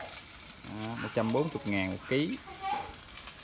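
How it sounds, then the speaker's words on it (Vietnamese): Sea-fish cakes fry in an iron pan over a wood-fired stove, giving a steady, close sizzle beneath people chatting. "Đây cảnh chiên bằng nồi sắt."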